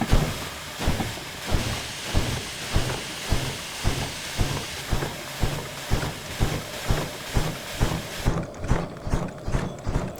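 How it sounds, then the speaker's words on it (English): A steam locomotive in the train game Derail Valley chuffs in a steady rhythmic beat, each exhaust puff loud and repeating evenly as steam is blown out, with a brief hiss at the end. "Also blow out that additional steam there. You see quite a lot coming out now."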